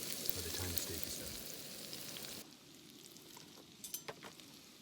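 Vegetables sizzle in a pan on a camp stove during a motorcycle camping trip, a steady frying hiss that drops noticeably quieter partway through as the heat is turned down, with a few faint clicks afterward.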